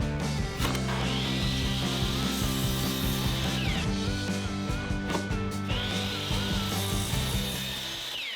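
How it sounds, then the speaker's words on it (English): Miter saw slicing through a 1x4 board into short 4-inch pieces, two loud whining cuts in quick succession, each rising as the blade bites and spinning down after, close and alone. "go to the miter saw, cut it, use that first cut, make a line for another one, and make that second cut too"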